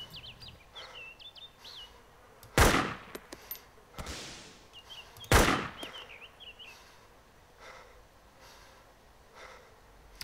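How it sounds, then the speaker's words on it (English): Gunfire in the ARMA 2 DayZ mod: three sharp, loud shots spaced a few seconds apart, with faint bird chirps in the background. "Just running towards his gunshots."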